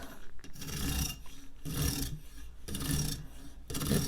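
A rasping, grinding scrape of steel on a sharpener against a serrated bread knife's scallops, in several bursts separated by brief pauses, with a bumpy, skipping texture.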